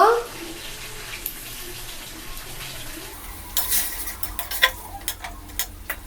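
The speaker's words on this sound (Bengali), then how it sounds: "পেঁয়াজ বাটা দিয়ে দেব" Onion paste goes into a hot kadai after chicken pieces were lightly fried, giving a sizzle with clattering spoon stirs that grow busier in the second half; no speech is heard.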